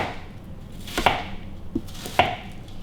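Several sharp knife chops strike a cutting board while dicing food for a shepherd's pie, three distinct close hits spaced about a second apart against quiet room tone.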